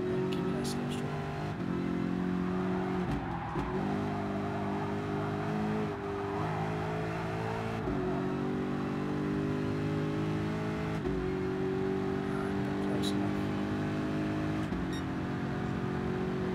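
Race car engine in Gran Turismo Sport, a constant loud drone with brief dips at gear shifts as it climbs again and again, running steadily the whole way.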